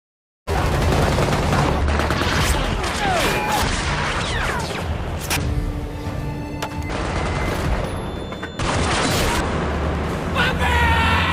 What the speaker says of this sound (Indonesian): Semua baku tembak.